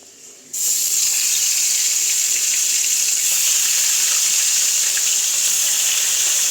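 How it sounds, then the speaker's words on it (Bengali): Catla fish coated in turmeric and salt is dropped into a hot wok, and a loud, steady sizzle of frying oil starts abruptly and carries on without a break. "প্রথমে কাতল মাছটা হালকা হলুদ দিয়ে নুন হলুদ দিয়ে মাখিয়ে নিয়ে কড়াইতে ছাড়তে হবে"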